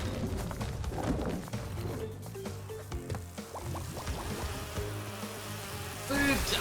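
Swarm of bees buzzing in the platform game Crash Bandicoot N. Sane Trilogy, a continuous insect drone mixed with game music and effects, steady and fairly loud without speech.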